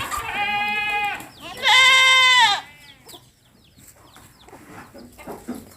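Goats on a goat farm bleat loudly in long wavering cries, two strong calls back to back, followed by quieter farmyard noise and faint distant bleats.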